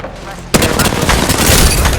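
Dense video-game gunfire that erupts suddenly after a half-second lull, loud overlapping shots and bursts continuing steadily throughout with a booming, chaotic texture.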